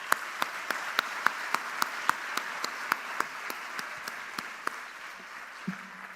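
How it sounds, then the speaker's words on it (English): Sparse applause at a university master's graduation ceremony, individual claps ringing out in a loose rhythm over a soft crowd bed, fading near the end. "A big round of applause, please."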